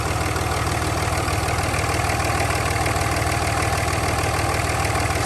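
Warm Dodge Ram truck engine with around 400,000 miles idling steadily during a blow-by check, a loud, close, continuous mechanical drone with an even rhythmic pulse and no voices.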